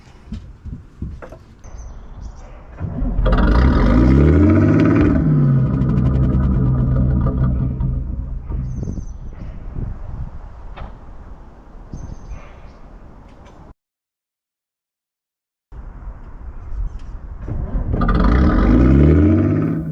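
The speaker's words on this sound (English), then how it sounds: "So let's start the engine." Diesel engine on a river cruising boat cranks and fires up, rising into a loud steady chugging run, then cuts out briefly before restarting and running loud again.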